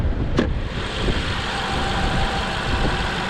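A BMW 750iL with a Twin Power Turbo engine runs steadily at idle, a broad continuous rumble heard up close with no talk over it.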